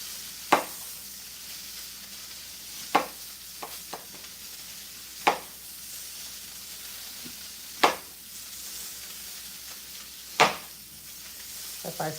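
Salmon fries in a pan with a faint, steady sizzle underneath, while sharp, distinct knocks land every couple of seconds, like a knife cutting a nectarine on a board nearby. No one speaks.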